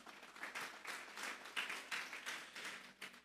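Congregation in a church clapping in applause, a quiet, somewhat distant burst of pulsing claps that rises and falls for a few seconds.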